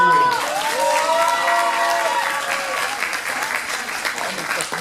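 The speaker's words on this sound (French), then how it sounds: "On applaudit l'assistant." Crowd at a cosplay show in Dijon applauds the assistant, steady close clapping with some cheering, following a brief vocal exclamation at the start.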